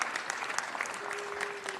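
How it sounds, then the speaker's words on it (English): Brief burst of steady applause from an audience at a city council meeting, continuous clapping throughout. "Let's give them a round of applause."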